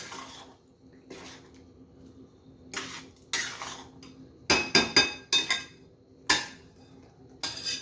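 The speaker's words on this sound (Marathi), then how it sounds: "तर आता हे तेलामध्ये असं छान मिक्स करून" A spoon stirs green chillies in oil in a home kitchen pan, giving close, intermittent metallic scrapes and clinks in short bursts separated by quiet gaps.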